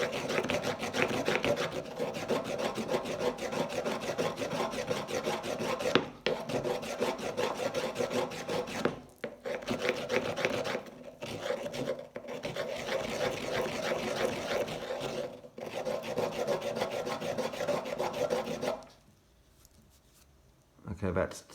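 A stone is rubbed back and forth on the rough side of a sandstone block, making a steady, close gritty rasping with brief pauses between passes and a quiet gap near the end.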